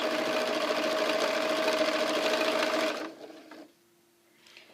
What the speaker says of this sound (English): I'm just sewing down here with 1/4 inch.